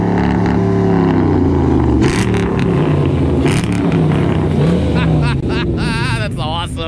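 A muscle car engine revving hard on the highway, a loud sustained roar with rising and falling pitch sweeps and extra engine noise layered over it, with people talking and shouting over it.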